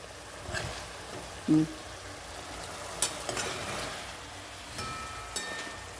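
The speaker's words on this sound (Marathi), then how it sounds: "तिकडं मटणाचा आवाज येतो" Mutton fries in a pan with a soft, steady sizzle and occasional stirring clinks, heard faintly in the background at an outdoor cooking gathering.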